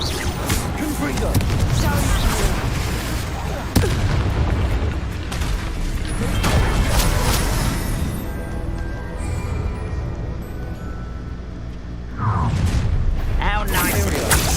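Blasting-curse explosion in a Harry Potter video game, a loud booming blast with heavy low rumble that sustains and swells again near the end, layered over game music and voices.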